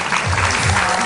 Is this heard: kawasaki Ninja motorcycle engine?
no